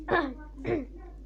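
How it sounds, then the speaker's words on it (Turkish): Two short, harsh coughs from a nearby person, about half a second apart, followed by quiet. "Çok kötü şey öksürüyorum."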